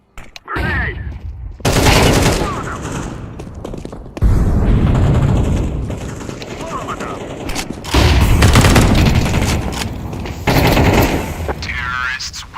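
Grenade blasts and rapid automatic gunfire from a Counter-Strike 2 match, loud and dense, with bursts stacking on each other and a few gaps between volleys, under occasional voices.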